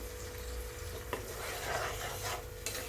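Spice masala being sautéed in a pan for Bengali katla fish kalia, a quiet sizzle with a few soft scraping stirs of a spoon.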